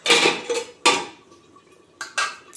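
A lid goes onto a pan of Bengali aar fish rasha curry with a few sharp metallic clanks, spaced out over about two seconds, close by with no talking.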